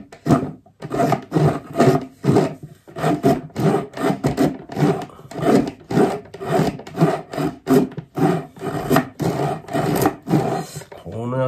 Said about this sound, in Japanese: このヤスリ本当いいですよ。